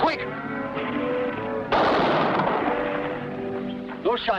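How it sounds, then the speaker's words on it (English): A loud burst of gunfire erupts midway in a 1950 western TV series, a sharp crack followed by sustained rumbling noise, with harmonic voices and music-like tones around it. "Those shots came from Hidden Valley."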